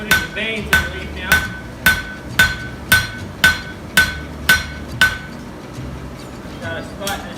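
Repeated ringing hammer blows forging a hot steel leaf, roughly ten evenly spaced strikes at close range, then the pounding stops and faint shop noise remains.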